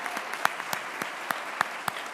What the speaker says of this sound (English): A big round of applause for Dr. Costello.